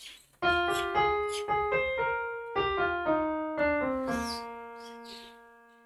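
Bar 7 of a song on a keyboard: a short, slow melodic line of clear single notes with sustained decay, close and moderately loud, played alone without talk.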